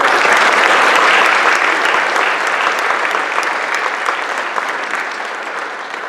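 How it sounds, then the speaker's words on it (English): At a guide dog class graduation, the audience breaks into loud, sustained applause, a dense wash of many hands clapping that slowly fades over about six seconds. "How about a big round of applause?"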